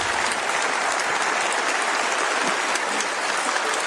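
Members of the European Parliament stand and give a sustained ovation, dense and loud applause from a large crowd filling the hall without a break, played back from a recording.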